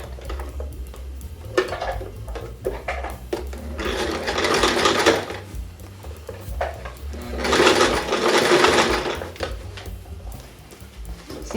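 A sewing machine stitches a zipper onto fabric in two distinct whirring bursts of a second or two each, separated by quieter handling clicks and rustles close by.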